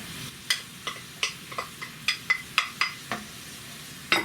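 Sticky rice and corn stirred in a hot pan, a run of sharp scraping clicks from the spoon, roughly a dozen uneven strokes over a soft sizzle, close up and without talk.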